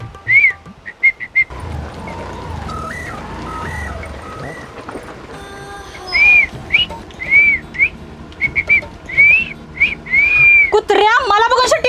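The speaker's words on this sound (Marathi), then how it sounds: "तोंडाच मारतो शिट्टी" A man whistles with his mouth in a comedic workplace scene, giving a string of short, bright, sliding notes and chirps that start and stop, over background noise.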